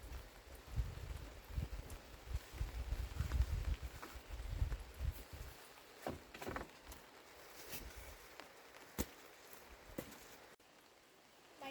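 Rain falls steadily around a mountain home, a soft continuous patter with scattered louder drops and occasional knocks, fairly faint and without talk.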